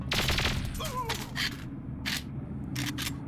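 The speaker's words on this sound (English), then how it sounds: "Am I getting shot with a tranquilizer gun?" Tranquilizer gun fire in the video game Perfect Dark Zero arrives as several short, sharp bursts spaced irregularly, cutting through a steady low rumble of game noise.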